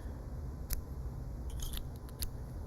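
A few sharp snips of scissors cutting a yarn tail while crocheting a headband, short crisp clicks scattered over a steady low background hum, close and fairly quiet.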